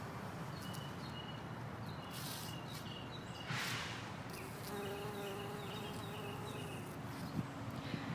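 A bee buzzes among flowers in an outdoor garden, a faint, close drone that swells and fades as it moves, over quiet background ambience.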